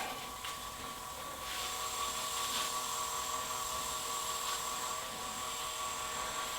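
A wood lathe spins an elm lidded box during final polishing, giving a steady high whine and hum with faint brushing contact noises, fairly quiet and continuous.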